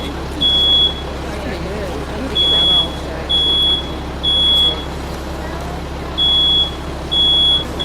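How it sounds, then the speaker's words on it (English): A smoke detector sounds a series of loud, shrill electronic beeps in bursts of about half a second, repeating irregularly with short gaps, during a live fire demonstration. Steady low rumble and vehicle noise run underneath. "for the smoke detector to go off."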